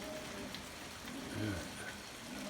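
Morning rain falls steadily as a soft, continuous hiss with a slight swell in the middle, fairly quiet and without voices.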